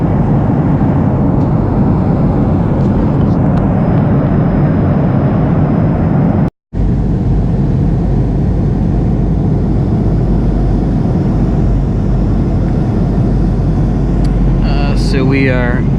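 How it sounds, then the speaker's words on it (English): A Surinam Airways airliner on approach to Georgetown's international airport, its cabin filled with a loud steady engine and air rumble that continues unchanged under someone talking. "we are coming in for landing at Georgetown Shetty Jagan International Airport"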